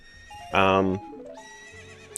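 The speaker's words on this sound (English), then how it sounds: "Can these horses just calm down?" Horses in the video game The Legend of Zelda: Ocarina of Time give a loud, close whinny lasting about half a second, amid game music tones and a short bit of talking.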